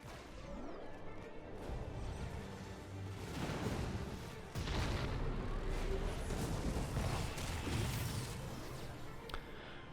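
Heavy Athena cannon artillery fire in a Red Alert 3 ladder match, with continuous dense booms, crashes and impacts layered over the sounds of ongoing battle throughout.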